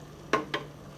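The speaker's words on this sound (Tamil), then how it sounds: "இந்த மாதிரி பபிள்ஸாக வரும்போது கிண்டி விடணும்." A spoon stirs an agar-agar, pandan and coconut milk jelly mixture in a pot on the stove: two short scraping strokes, close and fairly soft, against a low steady hum.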